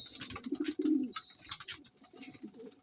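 A pigeon gives soft, low cooing calls in short rolling bursts, fairly close, with faint higher chirps and background sounds around it.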